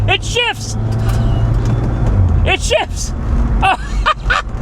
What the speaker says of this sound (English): she's spinning the tires